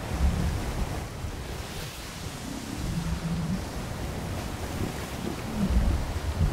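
Sailboat cutting through sea waves in the survival game Atlas, a continuous rolling wash of surf and wind with low creaks and swells rising toward the end, no voices.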